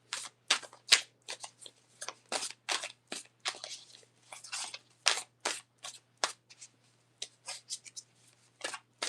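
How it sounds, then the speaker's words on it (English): A deck of tarot cards being shuffled over and over, a rapid run of crisp riffling and slapping bursts, close and fairly quiet, with no one speaking. "Keep shuffling tarot."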